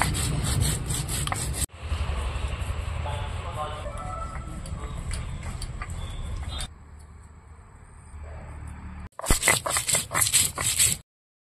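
Whole cumin seeds ground into a paste on a grinding stone, heard as steady rhythmic rubbing and scraping strokes close by, with short pauses between bursts.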